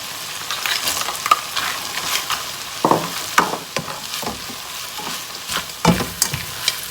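Green peas go into a pan of fermented pork fried rice, giving a loud, close sizzle with repeated scraping and stirring strokes against the pan.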